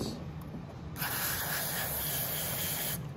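Aerosol carburetor cleaner sprays through a Nibbi carburetor from a Venom x22GT 250cc automatic motorcycle: a steady, close, loud hiss runs for about two seconds after a softer start, with no talking.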